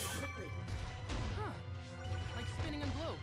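A high kick lands on a monster in the video game Kid Icarus Uprising with a heavy crashing thwack amid game music, effects and a voice talking over it.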